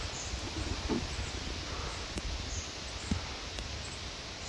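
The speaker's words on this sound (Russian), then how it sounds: "Ветер поднялся." Wind rustling the leaves outdoors, a steady soft broadband rush with a few faint ticks, quiet and continuous without talk.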